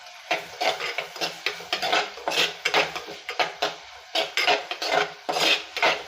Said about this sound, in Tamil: தக்காளி பழத்தையும் போட்டு நல்லா வதக்கி விட்டுக்கோங்க